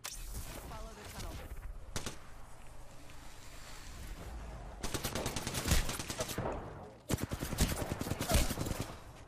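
Bursts of automatic gunfire in the battle royale shooter Apex Legends, loud rapid volleys around the middle and end of the stretch over wind-like game ambience.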